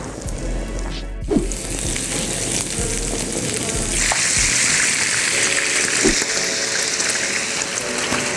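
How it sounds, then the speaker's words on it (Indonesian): Garlic sautéing in hot oil for a Korean honey chicken sauce, a steady loud sizzle and crackle with brief pops and clinks, swelling into a fuller hiss partway through. "Masukin minyak, terus kita tumis bawang putihnya ya sampai udah wangi dan mau kering."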